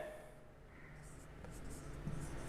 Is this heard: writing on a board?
yes